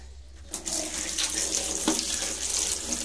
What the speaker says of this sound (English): pour the water in the latrine